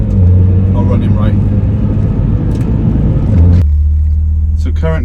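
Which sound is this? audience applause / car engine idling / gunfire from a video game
car engine idling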